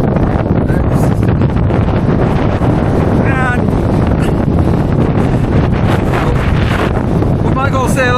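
Strong wind gusts batter the microphone on an open marsh at Leverton, a constant loud roaring rush throughout, with brief voices heard in the background.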